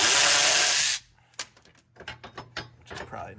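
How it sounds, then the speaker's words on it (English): Tools work a bearing off a bracket on a Nissan S14 240SX during an LS swap: a loud burst of mechanical whirring cuts off, then a run of sharp metallic clicks and ratcheting knocks up close. "now I have to take this bearing off in this other bracket"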